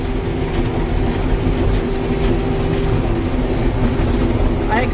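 An 8830 windrower with a sickle cutter moves through a thick alfalfa hay crop, giving a loud, steady mechanical drone and rattle that holds unbroken from start to finish.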